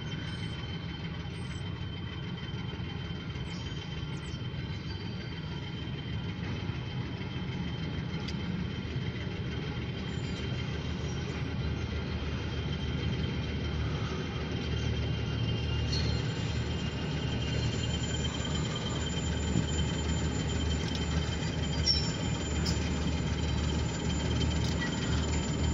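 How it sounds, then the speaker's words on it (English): An OC&T grain hopper freight train passing slowly, a steady low rumble of rolling wagons with faint squeals and clanks, continuous and moderately distant. "We got a OC&T grain hopper train."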